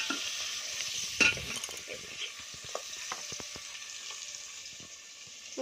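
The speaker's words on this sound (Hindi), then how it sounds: "ये देखिए, मछली फ्राई हो रहा है।" Fish sizzles and spits as it fries in a pan at home, a steady close crackle with occasional stirring clatter and a sharp utensil knock, and no talking.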